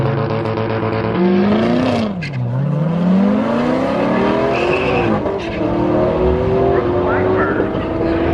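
Race cars launch down a drag strip, among them a cheap VW Beetle and a Porsche GT3 RS: a loud, close engine note dips, then climbs steadily in pitch as the car accelerates hard.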